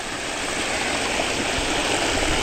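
Water flows hard through a canal into a farm field, a loud, constant broadband rush with no breaks, close by and without talk.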